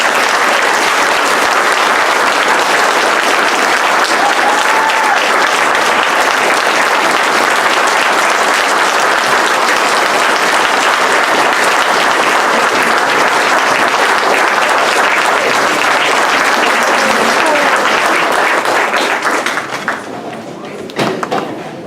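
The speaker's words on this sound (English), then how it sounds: "So if you could join me and give them a round of applause." An audience at a school board meeting gives educators a round of applause, loud sustained clapping from a large room that holds steady for about twenty seconds, then fades quickly into a few scattered claps.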